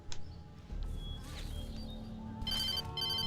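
Telephone ringing in the Alan Wake video game, a bright electronic ring bursting in near the end over a low hum of background ambience, with a fainter ring-like chime earlier.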